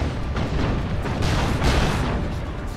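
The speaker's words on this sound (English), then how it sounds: "Auto cannon doing some decent work" Dense, sustained battlefield gunfire in Warhammer 40k: Dawn of War 2 with autocannon bursts among overlapping booms and blasts in a noisy 3v3 skirmish, loud and continuous with no clear gaps.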